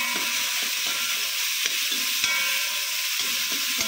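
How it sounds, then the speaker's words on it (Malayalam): Chopped onions, shallots and garlic sauté in hot oil in a pan, giving a continuous loud sizzle broken by soft scrapes from the stirring spoon, close and steady without talk. "എന്നിട്ട് നല്ല പോലെ വഴറ്റി വഴറ്റിയെടുക്കാം"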